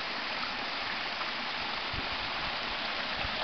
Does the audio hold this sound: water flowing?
yes